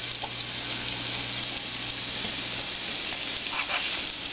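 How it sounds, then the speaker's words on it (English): Frozen mahi fish fillets dusted in flour fry in fat in a pan, giving a constant, close, bright sizzle with faint spitting pops and no talking. "fat in the pan to cook the fish with the flour?"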